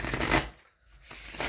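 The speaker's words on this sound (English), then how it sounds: "One more shuffle because we're feeling it." Tarot cards being shuffled in two short riffling bursts separated by a brief pause, close and soft.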